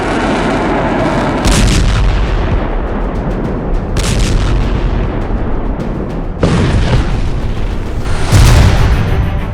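Explosions and artillery fire from an Iranian missile attack on Israel: four loud, booming blasts a couple of seconds apart, each followed by a rolling rumble.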